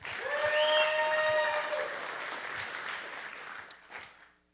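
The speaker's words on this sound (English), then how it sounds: "Quick round of applause for Eddie Ortiz." A boxing promotion audience applauds for boxer Eddie Ortiz in a brief, dense burst of clapping that swells loud, then thins and fades over a few seconds, with a sustained tonal sound fading early on.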